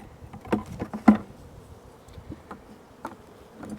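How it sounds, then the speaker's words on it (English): Honeybees buzz around open hive frames during a swarm-prevention inspection, a close, uneven hum with individual bees swelling loudly past in short bursts, no voices. "we got 1, 2, 3, 4, 5, 6 frames of bees"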